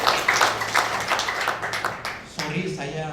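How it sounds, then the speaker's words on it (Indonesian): Congregation clapping during an Ascension Day church service, a dense spread of hand claps with voices mixed in, continuing for a few seconds before shifting into a singing or speaking voice near the end. "Tepuk tangan dulu buat Tuhan."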